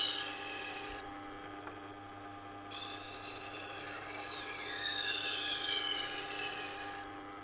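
A Global knife is sharpened on a resin bonded diamond wheel, making a continuous close grinding rasp with steady hiss and shifting scraping tones as the blade passes.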